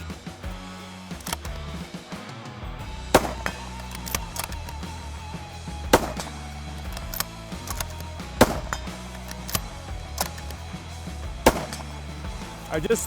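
Rifle shots fired from a rifle fitted with a Foundation Centurion stock on a range, about eight sharp cracks spaced a second or two apart over steady background noise.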